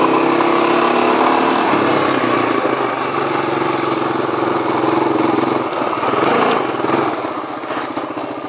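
Honda 300 and 350 four-wheeler engines run steadily and loud, a close, continuous buzzing drone that eases slightly toward the end, with no talk over it.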